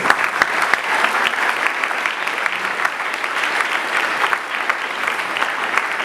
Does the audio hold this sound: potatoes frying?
no